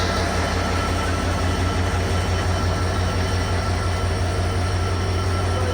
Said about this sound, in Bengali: ছেষট্টি উনচল্লিশ লোকোমোটিভ নিয়ে তারা রয়েছে